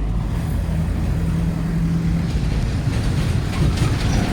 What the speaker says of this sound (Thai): ก็น่าจะมี ขบวนรถไฟวิ่งผ่าน